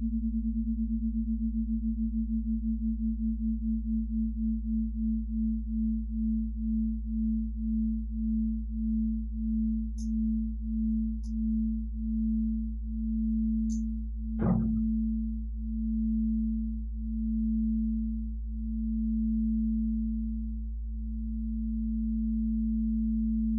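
A steady low synthesized sine tone from a VCV Rack patch drones throughout. Its slow beating wavers at first and gradually eases, with a couple of faint high blips and one brief sweep near the middle.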